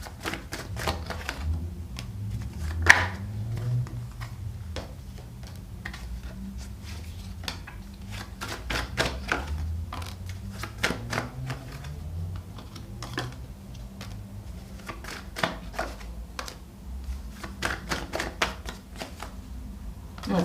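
Tarot cards being shuffled by hand in a steady riffling, slapping rhythm, with several cards slipping out and dropping, close and fairly quiet with no talk.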